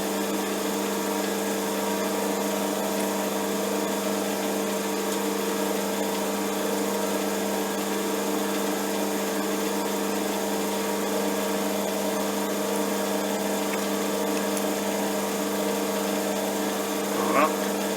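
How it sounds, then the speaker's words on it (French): A metal lathe drills with a center drill, producing a continuous, steady machine hum with layered tones that holds unchanged throughout. "Perçage."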